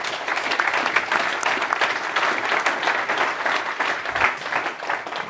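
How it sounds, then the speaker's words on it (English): Audience applause at a conference session on autonomous parcel delivery, a dense, steady wash of clapping from a full room, sustained throughout. "Please give Stefano an applause"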